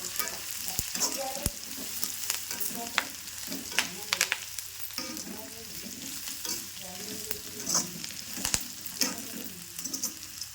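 Onions frying in a pan for a poha (flattened rice) evening snack, a steady close sizzle with frequent scraping and stirring clatter from a utensil throughout.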